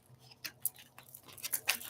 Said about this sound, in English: Let me shuffle these up here real quick